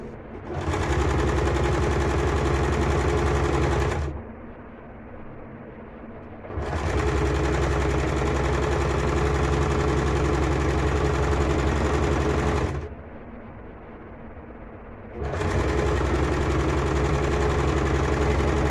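A sewing machine runs a straight seam on a lehenga skirt, its steady rapid needle clatter going in long sustained bursts with short pauses between them, close and loud.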